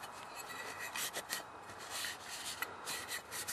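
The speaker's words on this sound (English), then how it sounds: "I'm also going to wipe the inside of the valve cover as well" A rag rubs and scrubs an oily lawnmower engine's overhead valve cover clean, close brisk scraping strokes in uneven bursts, with no talk.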